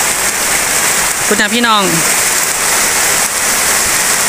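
Steady rain falls across rural farmland in the wet season, a continuous broadband hiss throughout, with a voice speaking briefly over it.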